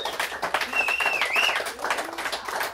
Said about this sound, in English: Keep the clapping going for Abby.